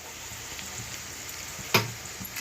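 Sweet potato fry sizzles gently in a pan as spice powder of poppy seeds, sesame, peanuts, clove, cinnamon, coriander, cumin and garam masala is stirred in, with a soft steady hiss and one sharp spatula clack near the end.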